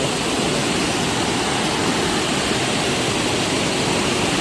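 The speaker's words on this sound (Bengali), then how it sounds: "আর যে আওয়াজ জলের, তোমরা শুনতেই পারছিলে চারিদিকে" Elephant Falls in Meghalaya roars as a loud, unbroken wall of rushing water, heard close up amid the hills with no pauses and no talk.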